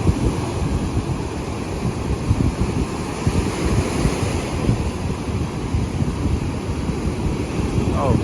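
Pacific Ocean surf on a San Francisco beach, waves breaking and washing in a continuous loud rushing roar with wind noise on the microphone.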